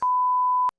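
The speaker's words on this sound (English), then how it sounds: "I'll beep all these out" A single steady electronic censor beep dropped over a spoken word, a clean pure tone lasting about two-thirds of a second, loud and alone, cutting off sharply.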